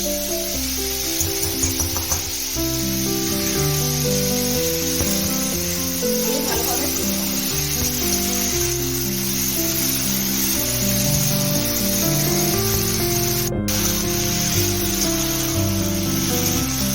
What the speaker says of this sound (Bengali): ফুলগুলোকে আমি এর মধ্যে দিয়ে ভেজে নেব। ঘিটা গরম হয়ে গেছে।